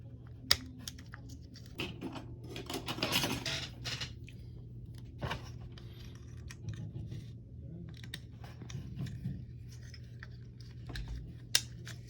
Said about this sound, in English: We're gonna go ahead and see if we can't get hold of that line and get it snapped out of there.